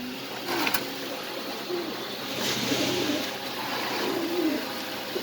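An Iceberg Damascene master pair of pigeons gives low, rolling coos at intervals, close by, over a faint steady background hum.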